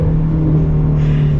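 The flat-plane crank V8 of a Shelby GT350 Heritage Edition holds a steady, high-pitched drone at high revs short of redline, loud and close, with no voices.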